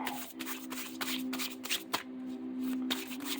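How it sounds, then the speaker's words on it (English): Close, crisp riffling of a tarot card deck being shuffled, a steady run of papery flutters and snaps with a soft low hum underneath. "This deck. It shuffles amazing."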